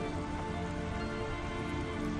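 Steady rain falls in the video game I Remember The Rain, a dense, even hiss of drops on surfaces with no pauses or changes in level.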